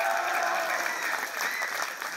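Dense, continuous clapping from a theatre audience at a play's curtain call, many hands at once forming an even roar that holds steady throughout, loud and without speech.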